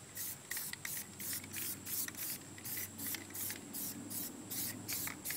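Aerosol can of Plasti Dip rubber coating sprayed onto car rims and spokes, a steady close hiss broken by short regular pauses between bursts, with no talking.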